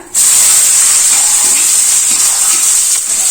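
Mini uttapam frying in oil on a pan at home, a steady loud sizzle with a bright hissing crackle that holds evenly throughout, no talking over it.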